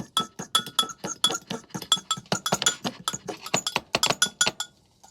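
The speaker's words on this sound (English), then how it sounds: "and then you get you a fork, mix this all around." Fork clinking rapidly against a mug while mixing keto bread batter, a steady run of bright metallic taps and scrapes, close and fairly loud with no talk.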